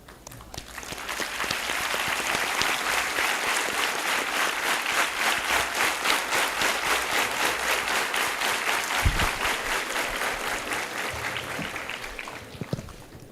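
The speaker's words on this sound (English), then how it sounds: "may I request all our fellow student managers to rise and join us in giving our signature corporate clap" A hall full of student managers stands and delivers their signature corporate clap for guests at a college event, a dense, sustained, rhythmic wave of clapping that holds steady for the whole stretch, loud and close with no talk.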